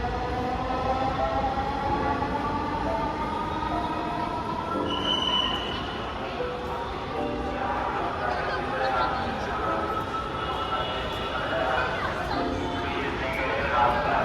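A Dhaka metro rail train runs steadily throughout, a continuous rumbling ride with a brief high wheel squeal, while people talk nearby.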